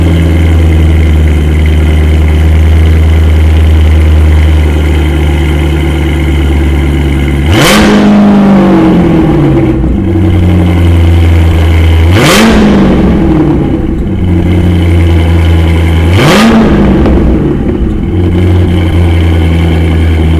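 A car engine idles with a deep steady rumble, then is revved sharply to 3,000 RPM three times at regular intervals. Each rev rises quickly and falls back to idle, loud and close.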